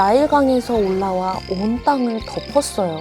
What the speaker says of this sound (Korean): 셀 수 없이 많은 개구리들이 개굴개굴 울며